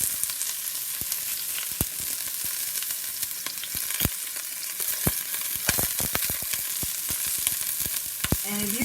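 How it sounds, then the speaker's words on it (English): A steady, crackling sizzle of onions frying in a hot pan, with scattered sharp pops over the continuous hiss. "chop up my onions in the pan. And that's the kind of sizzle you want to hear."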